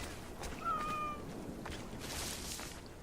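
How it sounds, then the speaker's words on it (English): A cat in Assassin's Creed: Origins gives one short, thin meow set against a soft, steady ambient game background, with no talk in the moment. "Oh, kitty cat."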